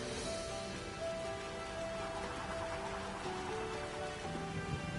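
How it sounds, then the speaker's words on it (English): Steady rainfall in the open world of the video game Sonic Frontiers, a soft continuous hiss of rain at low volume with no talk over it. "It's raining."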